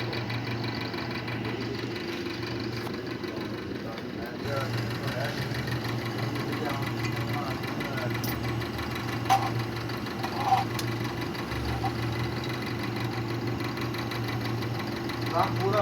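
Refrigerator compressor running at the back of a fridge during a gas refill, a steady low mechanical hum with faint rattling, moderately close, with people talking over it.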